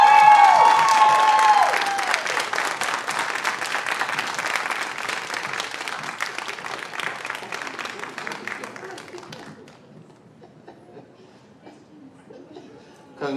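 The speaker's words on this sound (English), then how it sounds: "a hearty congratulations with applause" An audience at the 2022 Fall 3MT doctoral competition bursts into loud, sustained applause for the first-place winner, mixed with some chuckles, then the clapping thins out and fades to near quiet.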